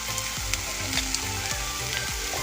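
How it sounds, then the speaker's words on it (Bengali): A fried spice paste is added to a pan of mocha (banana flower) mixture and sizzles loudly and steadily, with rhythmic stirring scrapes about every half second and no voices. "এবার সেই ভাজা মশলাটা আমি দেব।"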